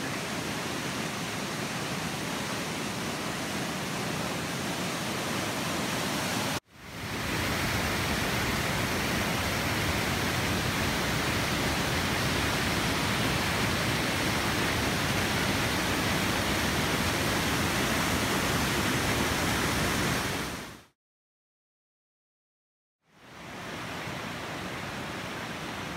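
Fryingpan Creek on Mount Rainier rushing steadily, loud, dense broadband water roar close by, briefly interrupted by a couple of short cuts before resuming.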